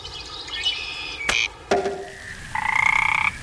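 Frogs croak by a lake in the video game Memoranda: a few separate, clear, tonal calls in quick succession, close and fairly loud against a quiet ambience.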